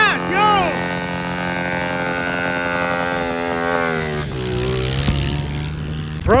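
Pit bike engine revving on the throttle at the rev limiter: a loud, close, sustained buzzing whine that rises and falls, with a sharp drop and roughening near the end and a burst of throttle right at the close.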